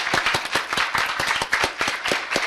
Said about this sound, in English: I would like to have a big round of applause to Elizabeth